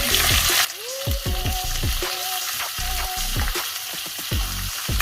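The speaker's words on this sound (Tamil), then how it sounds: "தேங்காய் கொஞ்சம் கலர் மாறணும், அது வரைக்கும் கொஞ்சம் வறுக்கணும்." Small chopped coconut pieces fry in hot oil in a pan for Pallipalayam chicken, giving a steady close sizzle broken by frequent scraping stirs of the spatula, with no talking.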